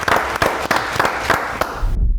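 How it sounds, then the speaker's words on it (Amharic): A small group claps in a steady, fairly close rhythm of separate hand claps at a music competition, the applause cutting off abruptly at the end. "ያቺኑ ይሄው ጭብጨባ በቃ እኔም ላጨብጭበው"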